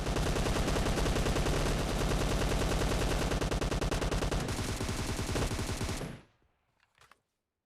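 Dense automatic gunfire from a battle royale video game rattles continuously at close range and high volume for about six seconds, then cuts off abruptly, leaving a couple of faint trailing shots.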